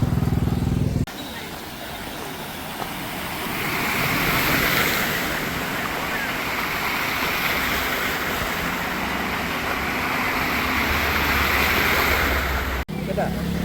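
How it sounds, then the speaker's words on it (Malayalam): Floodwater streaming across the Alappuzha–Changanassery road, heard as a loud, continuous rushing roar like surf, with a wind-like wash and faint vehicle noise blended in. "ഈ ഒരു റോട്ടിൽ വെള്ളം വരുന്നത്"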